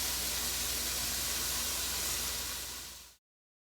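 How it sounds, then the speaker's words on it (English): Beef cubes fry with sofrito in a pot for beef soup, giving a loud, steady broadband hiss that holds evenly for about three seconds and then cuts off abruptly into silence. "So now we are going to pour our beef cubes in, okay? We're gonna let it fry in there a little bit with the sofrito."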